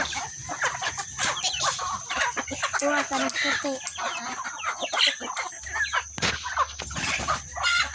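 Many chickens cluck and squawk nearby in a busy, overlapping chorus in a rural province, while a person talks briefly over them.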